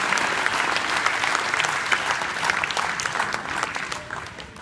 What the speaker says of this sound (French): Je vous demande vraiment de les applaudir.